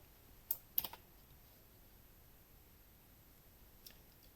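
A few quiet keystrokes on a computer keyboard during an online cloud apps class, a short cluster of clicks near the start and one more later, faint against a quiet room.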